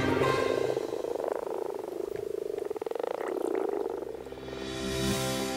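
Frogs croaking in a garden pond, a dense rapid pulsing chorus that swells and fades over several seconds, loud and close with no voices.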